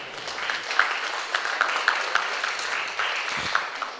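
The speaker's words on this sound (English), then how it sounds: "please give yourselves a big round of applause" A town hall audience gives itself a round of applause, a moderate, continuous patter of many hands clapping with scattered sharper claps, somewhat distant and even in level.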